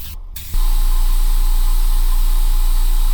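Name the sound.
airbrush spraying makeup paint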